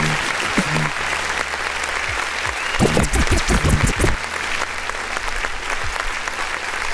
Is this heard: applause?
yes